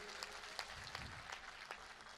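An audience claps for the chief minister at a Hindi comedy poetry event. The applause is brief and faint, a scattered patter of hands heard from a distance.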